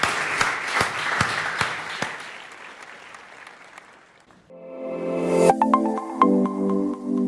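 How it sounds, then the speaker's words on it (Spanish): Loud applause from a church congregation at a Spanish-language sermon fills the first four seconds with dense, sustained clapping, then fades as music with sustained tones and bell-like notes comes in. "Le damos un aplauso fuerte al Señor."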